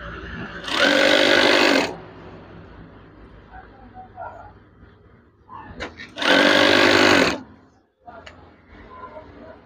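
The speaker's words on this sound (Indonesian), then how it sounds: "Oke, setelah dilipat, maka jahit saja bagian tirainya." A sewing machine stitches a folded curtain hem in two loud, close bursts of fast rhythmic whirring about a second long each, separated by quieter handling noises and faint background sounds.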